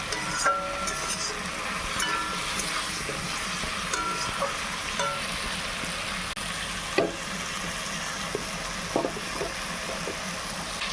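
Spices are stirred in a frying pan for a rohu fish curry, giving a steady soft sizzle with occasional spatula scrapes and clinks against the pan, heard alone and fairly faint.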